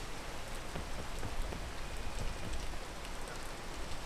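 Steady rain patters across a surface in a video game, a dense continuous hiss with scattered droplet ticks, moderately loud and unbroken by speech.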